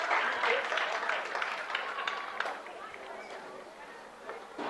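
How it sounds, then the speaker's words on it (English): Distant applause from a high school football crowd in an outdoor stadium for an injured player, faint and diffuse with crowd murmur underneath. "And now a round of applause for the injured player."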